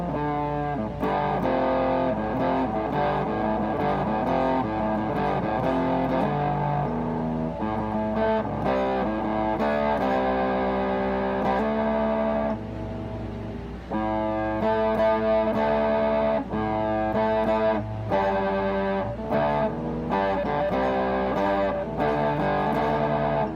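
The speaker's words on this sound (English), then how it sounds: "a Fuzz overdrive pedal that would be fairly clean and articulate, but also give me that distortion I wanted" Electric guitar played through a Vick Audio 73 Ram's Head fuzz overdrive pedal, out of tune, chords and riffs with gritty distortion, steady and loud throughout with a brief pause midway.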